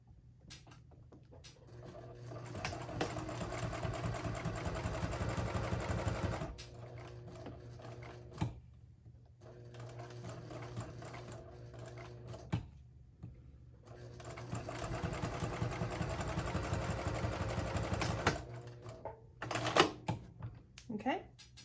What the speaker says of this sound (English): you're going to top stitch down both sides at 1/8 of an inch